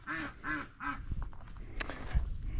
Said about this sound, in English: Ducks say hi.